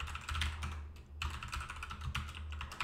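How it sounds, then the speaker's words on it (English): Rapid clicking keystrokes from a computer keyboard as a password is entered, steady and close with a brief pause midway, no voices. "now I'll enter the password that I did"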